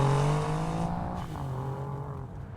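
A car engine drones steadily with a rising and falling pitch as the vehicle drives along a road, loud and close throughout, with no voices over it.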